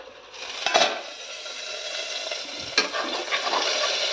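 Meat frying in oil in a pan is stirred while cooking a Bihu festival meal at home. Soft sizzling runs under occasional scraping and clinking stirs, fairly quiet and close.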